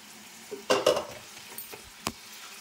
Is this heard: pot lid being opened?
yes